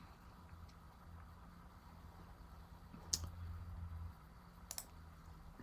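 A computer mouse gives two sharp, close clicks a little over a second apart, quiet and isolated against a low room hum, while someone works in ServiceNow.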